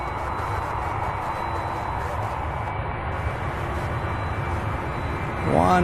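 A Boeing 767 at Louisville International Airport turns and readies for takeoff, its jet engines a steady, even roar heard from a distance, with a brief rising chirp right at the end.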